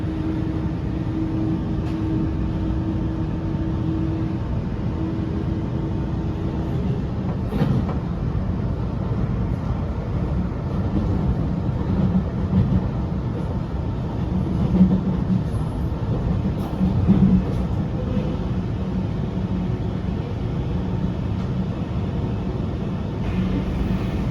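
Interior of a Sydney Millennium train on its run from Granville to Strathfield, a steady low rumble and rattle of wheels on rails with a brief clunk partway through, continuous and fairly loud with no talking.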